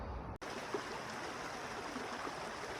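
A clear river flows beside an icy winter hiking trail in the White Mountains of New Hampshire, a steady close rushing of stream water that carries on alone after a brief dropout near the start.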